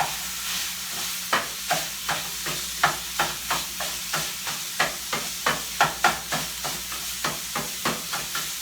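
Sausage frying in a soup pot and stirred with a meat chopper, soft steady sizzle broken by regular scraping strokes about every half second, close and fairly quiet, no voices.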